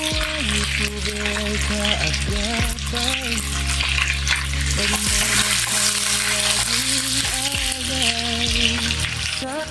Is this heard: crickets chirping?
no